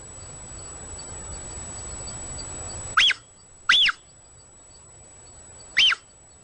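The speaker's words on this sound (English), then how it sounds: "the sound we heard was a puma" A puma gives three short, high, bird-like chirps, two close together and a third after a pause, each clear and distinct over quiet background hiss.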